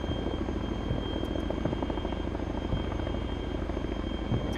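Helicopter in the military game ArmA 3, its rotor thumping in a steady, loud drone with engine whine, continuous and close, with no talk.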